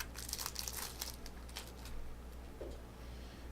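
A card game promotional package wrapper crinkles and tears as it is opened, crisp plastic rustling close by in quick bursts, easing into lighter handling toward the end.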